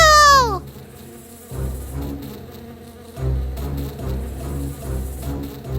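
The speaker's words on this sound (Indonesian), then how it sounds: "Dorothy dan teman-temannya melihat lebah terbang ke arah mereka." Giant cartoon bees fly in with a steady buzzing drone over low music, swelling and fading in waves, after a brief bright opening tone.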